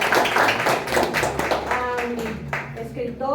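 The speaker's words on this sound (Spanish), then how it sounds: "a quien pido un aplauso," Applause from an audience at a book and library event in Baja California Sur, dense clapping mixed with a voice speaking over it through a sound system, fading as the talk continues.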